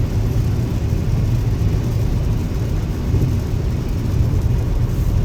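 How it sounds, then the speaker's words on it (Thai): Steady broadband rumble of rain falling while a car drives along a road, a dense continuous wash with low road and engine drone underneath, even in level throughout with no talking. "ฝนตก"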